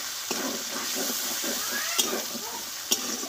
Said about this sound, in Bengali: ভালোভাবে টমেটো আর মশলাটা ভালোভাবে আমি কষে দেবো।